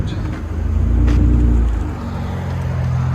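A straight-piped Nissan Altima SL with a 3.5L V6 idling close by, a deep steady low rumble that swells briefly and settles again, with a voice heard faintly over it.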